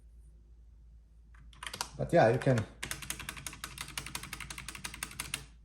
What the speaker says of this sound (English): can listen to the space bar. It does rattle a little bit.